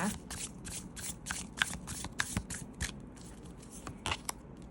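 Close, continuous rippling of oracle cards being shuffled by hand, with repeated riffles and soft slaps of the deck against a faint background.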